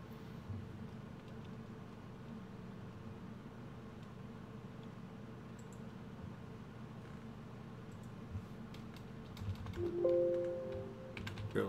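A stock ticker symbol is typed on a computer keyboard. The keystrokes are faint and scattered, with clearer clicks toward the end over a steady low background hum, and no talking.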